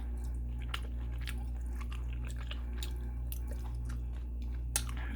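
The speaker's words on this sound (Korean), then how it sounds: "고기 같이 한번 씹어 먹어보면은" Close, steady chewing of stir-fried fish cake (eomuk bokkeum), with soft wet bites and squishy mastication repeating for several seconds, no talking.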